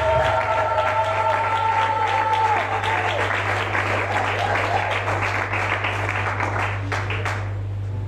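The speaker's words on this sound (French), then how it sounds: "si nous pouvons applaudir pour notre assistance" Sustained applause from a large church congregation, steady and dense throughout, with a low constant hum underneath and a faint tone early on.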